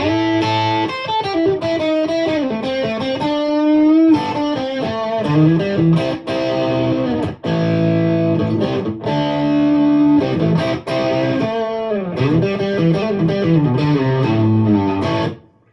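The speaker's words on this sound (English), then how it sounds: "Got a little distortion." An electric guitar plays through a Fender Mustang GTX100 amp with a light distortion setting, giving loud, sustained chords and melodic lines with a gritty edge and short pauses between phrases.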